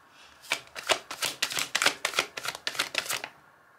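A deck of tarot cards is shuffled close by in a rapid run of crisp riffling bursts lasting a few seconds, then the sound stops abruptly.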